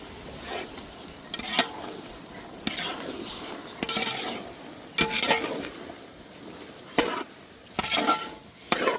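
Soybeans frying in a hot pan for a Tamil-style soya rice, with repeated bursts of stirring and scraping over a steady close sizzle, the spoon clinking against the pan every second or so.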